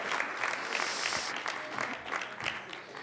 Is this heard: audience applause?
yes